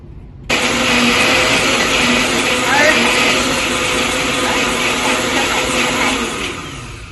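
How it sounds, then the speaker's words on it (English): A blender whirs steadily while blending compound butter with pinches of salt for oven-roasted shrimp scampi, a loud continuous motor drone that starts abruptly and holds for about six seconds before easing off. "what we used is a blender"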